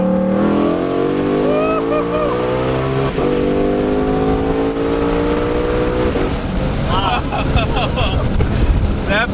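A car engine pulled hard from about 4,500 RPM, its loud roar climbing steadily in pitch before a gear shift near 8,000 RPM, then building again, with heavy wind rush over the microphone.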